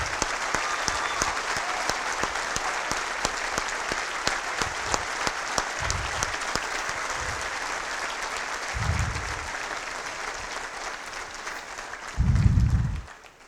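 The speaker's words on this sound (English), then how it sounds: "So please give her a round of applause." An audience at an Eid ul Fitr 2017 awards event gives sustained applause, a dense even clapping that fades slightly over time, with a few low thumps and handling bumps near the close.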